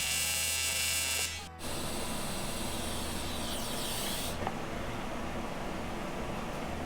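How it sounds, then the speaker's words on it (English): An AC arc welder tack welding gives a loud, steady buzzing hiss that runs almost throughout, with one brief dip and break early on before the harsh crackle resumes. "That seems like you're welding for so long to get an itty bitty tack"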